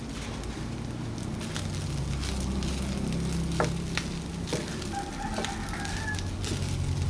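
Steady sizzling and crackling of pancit canton noodles frying in a hot pan, continuous throughout, with a few faint clinks and a distant rooster crowing in the background.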